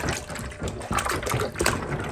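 Water runs and splashes steadily while an aquarium filter basket is rinsed, a close, continuous trickle with uneven gushes, and no talk over it.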